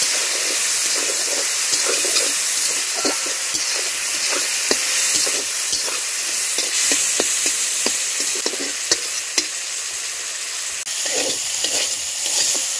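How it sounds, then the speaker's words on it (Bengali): Prawns sizzle in hot oil in a home kitchen, a steady close hiss and crackle broken by frequent light clicks as the pan is stirred; no one speaks. "দেখুন তেল গরম হয়ে গিয়েছে, চিংড়িটা দিয়ে দেবো"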